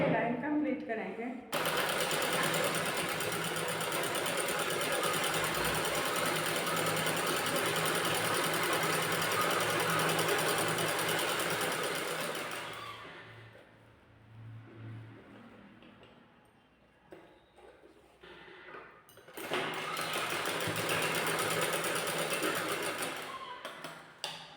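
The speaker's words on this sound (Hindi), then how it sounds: "अब इस तरह से स्टिच करते हुए लाइन कंप्लीट करेंगे।" A sewing machine stitches a net fabric blouse, running loud and steady for about twelve seconds, pausing briefly, then starting again; a voice talks quietly during the gap.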